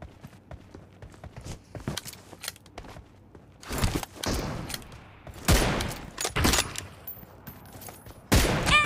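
Shotgun fire in PUBG Mobile comes as sharp, loud blasts scattered among lighter clicks and footsteps, nearby, with the heaviest shots toward the end.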